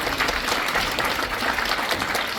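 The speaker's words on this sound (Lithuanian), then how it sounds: "Plojimai jiems." An audience claps steadily throughout at a cultural centre anniversary concert, with dense, even applause from a crowded hall.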